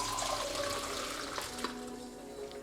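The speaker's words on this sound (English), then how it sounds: "So now I'm pouring." Boiled herbal decoction made from plant branches being poured, a steady splashing liquid stream that gradually thins and softens, with a couple of small clinks near the end and no talking.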